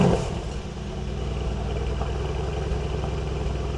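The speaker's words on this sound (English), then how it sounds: "Let's hear the warm startup because the car's already been on for an hour." A warm Mercedes C63 AMG V8 engine idles steadily at close range after startup, a low rumbling throb with a slightly uneven, lopey rhythm and no voices.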